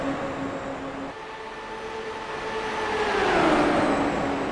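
IndyCar race cars rolling down pit road at Dover, a steady engine drone with rising, sweeping tones that swell louder toward the end, no talk.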